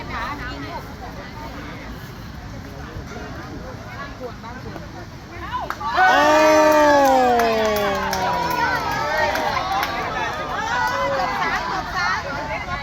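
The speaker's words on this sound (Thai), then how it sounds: "แฟนเชียร์รอบสนามเลยครับ" Fans cheer around a woodball course as a young player takes his shot, a crowd murmur that swells suddenly into loud, excited cheering and whooping midway through, then stays lively and busy.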